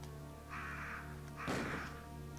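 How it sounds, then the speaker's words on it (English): Crows cawing in a classic PS1 survival horror game, two harsh raspy caws a second apart over a low droning game soundtrack, fairly quiet. "you can't shoot the crows, they're useless"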